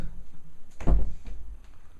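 A door is shut once with a single heavy thump near the middle, indoors and fairly close, with only faint room noise around it.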